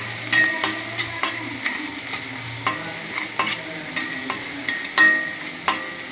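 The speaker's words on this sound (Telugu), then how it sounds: "పోపులు ఇలా కలుపుకోవాలి" A spoon scrapes and stirs a spice tempering in a frying pan in a regular rhythm of sharp clinks, with a soft sizzle running underneath, close by and with no talking.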